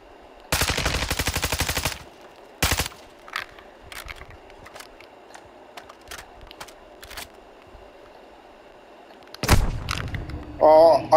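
Gunfire in Call of Duty: Modern Warfare II, with a long rapid automatic burst, a single sharp shot, then a scattering of fainter distant pops and another loud burst near the end.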